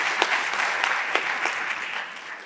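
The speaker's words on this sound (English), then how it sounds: "I think we can applaud better for that" Mining summit audience applauds in a moderate, steady round of clapping, with a few sharper individual claps standing out before it tapers off slightly at the end.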